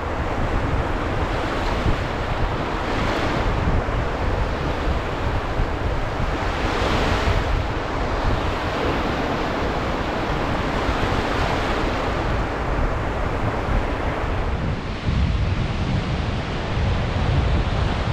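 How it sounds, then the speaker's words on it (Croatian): Sea waves and strong wind on the coast at Ulcinj, Montenegro: a loud, continuous wash of surf with rolling swells, mixed with heavy wind buffeting the microphone, and no voices. "Ne znam da li čujete more od vjetra, ali fenomenalno šumi."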